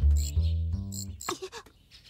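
Short, high cricket chirps repeat in quick bursts over a low, droning tone, then give way to softer, scattered sounds, in an animated cartoon.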